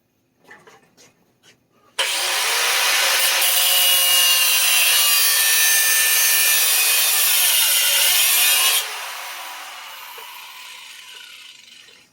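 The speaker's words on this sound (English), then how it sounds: "I think I'm cutting through more hinge than I am of the weld" A continuous, loud grinding cut bites through a metal hinge and weld for several seconds with a high harsh whine, preceded by a few light knocks and trailing off into a fading spin-down.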